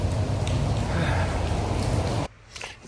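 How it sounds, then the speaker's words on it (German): Heavy, continuous rain hisses loudly and evenly for a couple of seconds, then cuts off abruptly, leaving a much quieter background. "Es regnet ja ununterbrochen."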